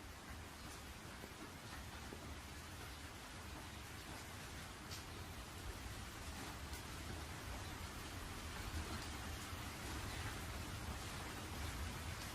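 Steady rain falling, a constant soft hiss of drops on surfaces, faint and even throughout with no voices over it.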